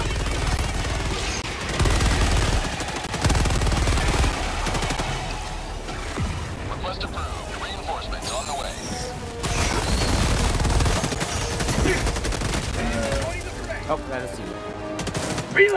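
Rapid automatic gunfire from a weapon set to its maximum fire rate in Helldivers 2, sustained bursts running across the scene with explosive crashes, heard under ongoing game sounds and voices.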